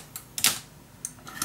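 Paper is cut in half for a handmade mini album. A few short, crisp snips sound close by, spaced apart, with quiet gaps between them.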